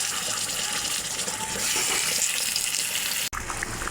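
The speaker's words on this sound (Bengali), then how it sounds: "মাছ ভাজা হয়ে গেছে, মাছটা বেছে নেব।" Fish frying in a pan while cabbage-leaf rolls are being made, a steady broadband sizzle holding at even loudness throughout, with a brief sharp dropout near the end and no voices.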